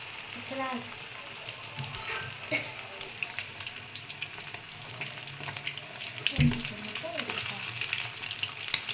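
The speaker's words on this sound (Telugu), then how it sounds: "ఆయిల్ హీట్ అయ్యాక ఇలా ఒక్కొక్క చాప ముక్క వేసుకోవాలి సిమ్లో పెట్టుకోవాలి" Fish pieces fry in hot oil on low heat, a steady close sizzle and crackle with occasional clinks and stirring sounds.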